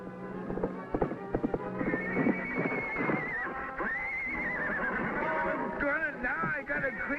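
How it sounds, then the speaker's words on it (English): Hooves clip-clop in a quick rhythm while a horse whinnies loudly nearby, with other sounds mixed in. "Now I got a crazy horse after me, too."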